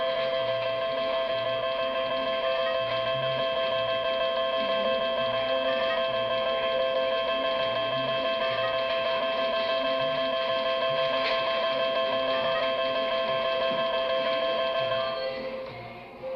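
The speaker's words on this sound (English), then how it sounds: "your credits will ring up right here." A casino slot machine rings up credits after bills are inserted, sounding a steady electronic tone with a sustained ringing chime. It stays loud and continuous for several seconds, then fades.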